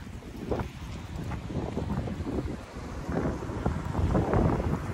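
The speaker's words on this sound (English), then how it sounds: "Oh, except it's windy over here." Steady wind buffets the microphone outdoors in Frankfurt's Westend, a continuous low rumbling roar that swells and gusts louder toward the end.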